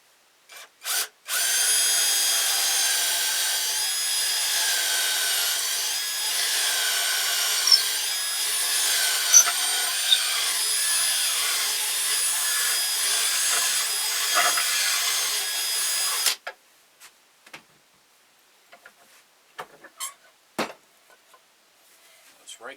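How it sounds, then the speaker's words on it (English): A power drill bores a hole for string through a wooden stick on a handmade ventriloquist dummy, a loud steady whine for about fifteen seconds, then stops, followed by scattered clicks and handling taps. "we're going to drill our hole for our string"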